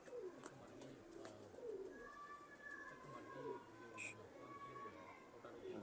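Breeder pigeons coo in low, soft, repeated calls among faint background noise, with a few higher bird chirps mixed in.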